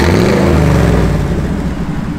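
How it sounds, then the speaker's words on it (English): A 1958 Chevrolet Apache pickup truck engine gives a brief, loud, close rev that rises and then settles. "Give it a little rev, Gary."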